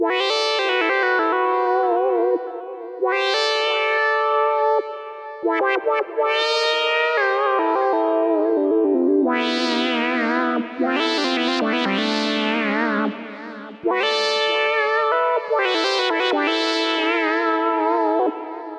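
A bright, buzzy Sequential Prophet 6 lead patch plays a melodic line of sustained notes with swooping pitch bends, heavy harmonics and a touch of echo, with no voices.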